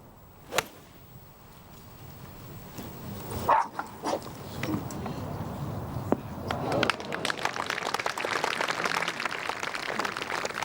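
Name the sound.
dogs fighting and barking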